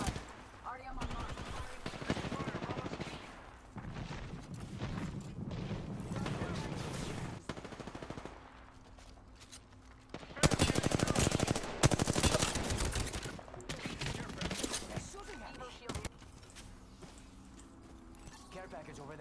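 Shotgun and other gunfire in a first-person shooter video game, loud blasts and bursts over game noise, with a player talking throughout and a dense volley of shots midway.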